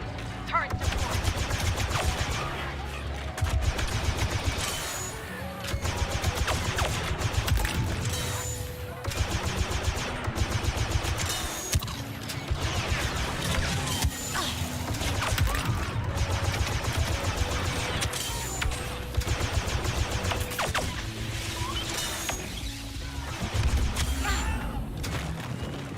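A deployed turret in Star Wars Battlefront 2 fires sustained rapid bursts, dense and loud, with booms and mechanical clatter mixed throughout a chaotic battle lasting over twenty seconds.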